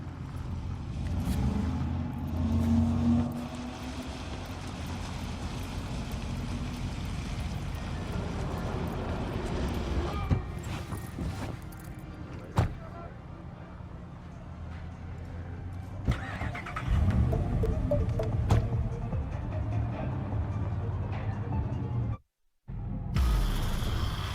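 A car driving in the video game Cyberpunk 2077, its engine a steady low rumble throughout with brief surges and one abrupt cutout near the end, and no talking.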